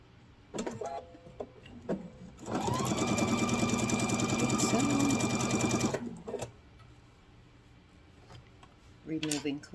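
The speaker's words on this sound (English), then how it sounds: "Now we'll just sew that on." A sewing machine stitches a cloth grocery bag in a steady mechanical whir lasting several seconds, with shorter clicks and handling noises before and after it and no words heard.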